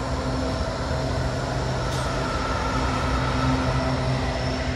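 Long freight train M368 from Chicago to Selkirk rolling steadily past at Voorheesville, a constant loud rumble of wheels and cars with no break, carrying tank cars and mixed loads and a quiet distributed power unit.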